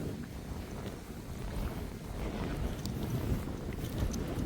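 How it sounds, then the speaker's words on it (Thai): Strong, gusty wind roars across the microphone at a high hilltop campsite at Khao Yai Thiang, a continuous loud rumbling buffeting with no clear pauses. "โอ้โหลมเอาเรื่องเอาราวเลยทีเดียว"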